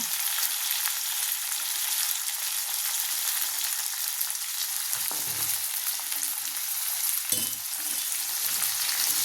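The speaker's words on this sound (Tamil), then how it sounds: "இப்போ நம்ம முள்ளங்கி போட்டுடலாம், கத்திரிக்காய் போட்டுடலாம்." Radish, brinjal and other vegetables fry in oil in a pan, producing a steady bright sizzle throughout, with two brief stirring knocks partway through, close and without talking.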